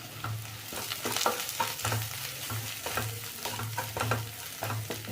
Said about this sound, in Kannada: ಸ್ವಲ್ಪ ಎಣ್ಣೆನಲ್ಲಿ ಫ್ರೈ ಆಯಿತು.